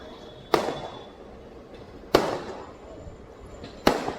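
Three sharp New Year firework bangs go off at even intervals over a flooded road at night, each cracking loudly and fading quickly into a quiet background.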